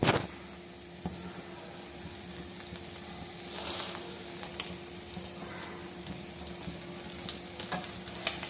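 An omelette of beaten egg fries in oil on a tawa griddle, giving a continuous close sizzle and hiss with occasional scraping and stirring clicks.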